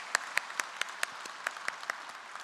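Church congregation claps for a choir and orchestra after a hymn, a few sparse, distinct hand claps in an uneven rhythm, fairly faint against a quiet room.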